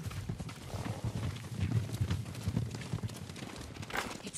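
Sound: horses galloping in a video game

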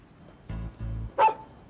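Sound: dog barking

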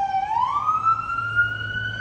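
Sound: New York City street noise with siren

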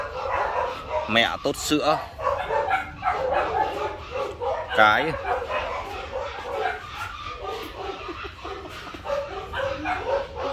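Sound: puppies whimpering and yipping

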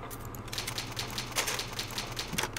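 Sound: typewriter save sound in Resident Evil video game

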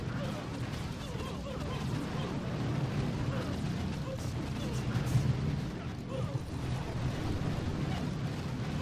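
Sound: bombers' bombs exploding in Boom Beach video game

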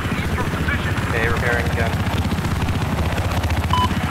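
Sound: helicopter in the video game Battlefield 4

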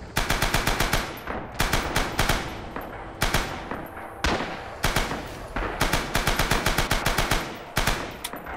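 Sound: machine gun fire in the video game Rising Storm

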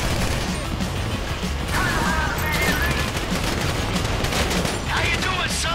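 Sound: gunfire in the video game GTA 5

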